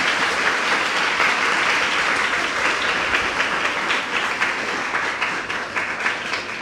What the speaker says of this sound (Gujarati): પહેલાં તો ચારે ચાર વક્તાઓને આપણે ખૂબ તાળીઓથી અભિનંદન આપીએ